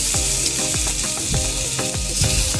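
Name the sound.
garlic sautéing in hot oil in a pan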